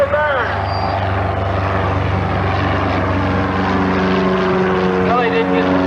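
An airplane flies past at an airshow in 1995, its loud propeller-like drone close and steady with a pitch shift as it passes, while a commentator talks over it.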